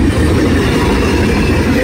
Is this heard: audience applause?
no